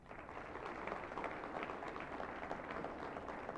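Applause from the audience at a city State of the City address, a fairly faint, even patter of clapping from a crowd sustained for a few seconds.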